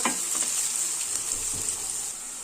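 Sliced onions frying in hot oil give a steady, loud sizzle with a bright hiss and faint crackles throughout, no voices over it.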